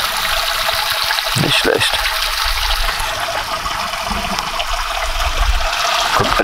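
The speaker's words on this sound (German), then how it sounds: "Kommt einfach mitten aus dem Berg" Spring water at the source of the Franconian Saale pours steadily out of the mountainside, a loud, close, continuous rushing and splashing, with someone speaking briefly over it.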